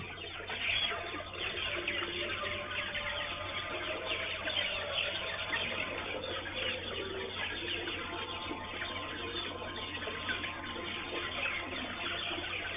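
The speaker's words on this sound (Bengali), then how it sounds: "মুরগিগুলোর পানি খাওয়ার দৃশ্য কাপ নিপিল ড্রিঙ্কারে কীভাবে পানি খায় সেটাও দেখতে পারবেন" Sonali chickens drinking from cup nipple drinkers on a poultry farm, their clucking forming a dense, continuous flock chatter that stays steady and fairly close throughout, with no voices.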